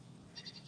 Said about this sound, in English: Is that your goats?